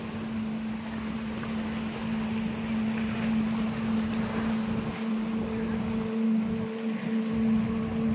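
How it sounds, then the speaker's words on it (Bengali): Big waves surge up against steps during rain, making a continuous loud wash and rumble with wind buffeting, and no one speaking. "এটা বেশি ঢেউ দিয়েছে, তাই না?"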